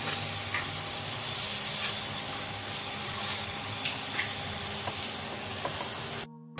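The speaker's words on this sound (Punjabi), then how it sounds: "ਚੰਗੀ ਤਰ੍ਹਾਂ ਮਿਕਸ ਕਰ ਲਾਂਗੇ" Soya chunk curry with fried nutri nuggets sizzles steadily in a hot pan while being stirred, a continuous close frying hiss with faint scraping, cutting off abruptly at the end.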